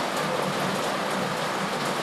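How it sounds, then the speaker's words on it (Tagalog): Heavy typhoon rain pours steadily in Los Baños, Laguna, a dense, continuous hiss of downpour with no breaks, close and loud throughout. "Narinig niyo po malakas ang ulan pa rin."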